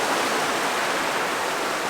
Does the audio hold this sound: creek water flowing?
yes